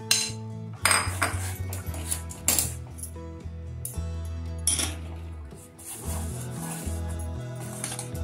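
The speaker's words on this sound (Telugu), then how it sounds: "మనం తీసుకున్న బియ్య పిండిని మొత్తాన్ని ఇందులో వేసేసి కలుపుకుంటూ మొత్తం వేసేసుకోవాలి" Rice flour being stirred into boiling water in a pot on a low flame, with repeated metallic clinks and scrapes of a utensil against the pot in an uneven rhythm, close and fairly clear.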